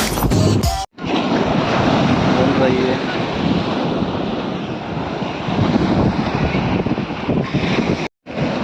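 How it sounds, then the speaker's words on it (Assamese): Sea waves wash up onto the shore at a beach near Pattaya, a steady loud surf roar with heavy wind buffeting the microphone throughout, broken by brief dropouts near the start and end. "আমি সাগৰৰ কিনাৰত বৰ্তমান আছোঁ। পানী একদম ভৰি কাষলৈকে আহি গৈছে।"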